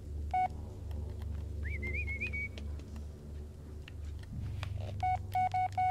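Phone beeps and tones in the Blair Witch video game, a few sharp electronic beeps followed by a short rising tone, then a rapid run of beeps, heard over a low droning background.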